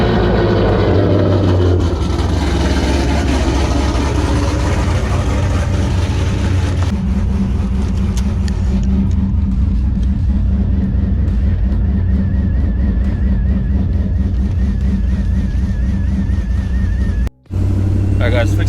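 A Pontiac G8 fitted with wideband and boost gauges drives along, its engine holding a steady low drone that shifts in tone partway through and cuts out for a brief moment near the end.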